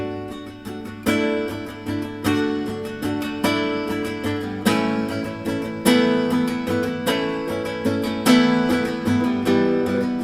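Acoustic guitar fingerpicked chords ring out in a steady pattern without pull-offs, each strum decaying before the next, close and clear with no voices.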